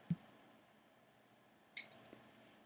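A computer mouse gives a few faint clicks, one single click and then a small cluster of quick clicks a moment later, close but quiet against near silence.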